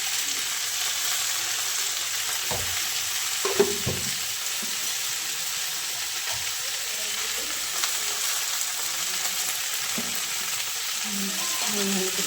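Onions being stirred and fried in a pan, a steady loud sizzle running throughout with occasional scraping strokes of the spoon, no talking.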